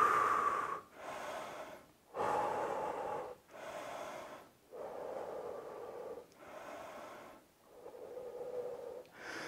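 Heavy rhythmic breathing during a home workout, about seven deep audible breaths close to the microphone, with no talking.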